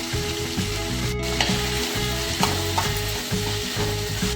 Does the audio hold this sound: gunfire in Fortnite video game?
no